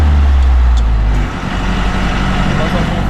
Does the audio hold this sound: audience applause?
no